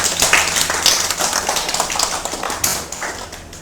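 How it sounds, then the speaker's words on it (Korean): Congregation applauding in a church during a worship service, a dense steady patter of many hands filling the room and tapering slightly toward the end, with no talk over it. "하나님께 영광의 박수를 드립니다"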